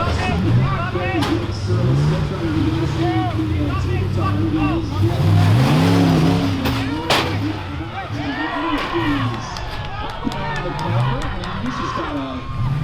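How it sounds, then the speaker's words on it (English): An off-road buggy engine revs and strains through an obstacle course at an Island Cup event, loud wavering engine drone rising and falling throughout, mixed with crowd noise and voices talking over it. "Utilizing some of the horsepower from his buggy to get out."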